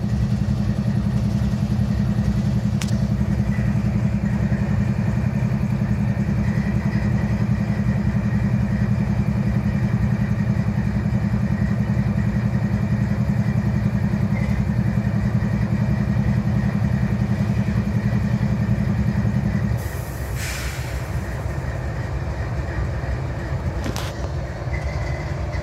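A GE AC4400 diesel locomotive idles with a steady low rumble and throb, then the drone drops away near the end, leaving quieter mechanical background with a few clanks.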